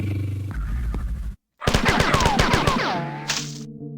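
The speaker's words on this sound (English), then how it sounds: "Well, I have what is this? An assault rifle." Assault rifle gunfire in a Bungie video game, loud rapid bursts with a brief silent gap partway through, mixed with clattering game sound effects and no talk.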